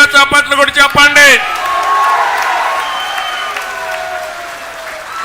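A large crowd at a political election meeting in Nellore breaks into loud applause and cheering after someone speaking over a microphone, a sustained wash of clapping that slowly fades.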